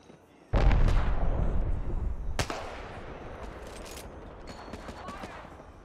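Gunfire in Apex Legends: a sudden loud burst of shots, another sharp crack a couple of seconds later, then a fading rumble with scattered faint shots.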